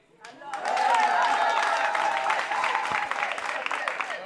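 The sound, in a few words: applause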